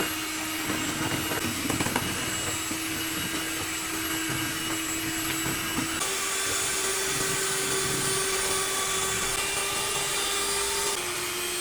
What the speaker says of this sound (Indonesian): Mixer kembali dengan kecepatan sedang, sampai gulanya larut.